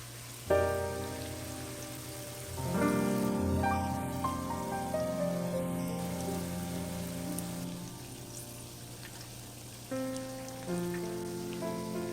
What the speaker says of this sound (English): Fry in small batches